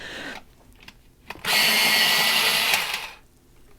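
A burnt carmine coloured pencil is ground in an electric sharpener: one loud, close whirring burst lasting about a second and a half, with quiet moments before and after.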